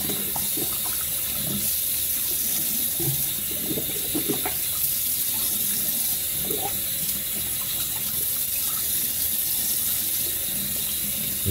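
Cold tap water runs steadily into a sink for a quick rinse during a shave, a continuous close splashing hiss with no voices.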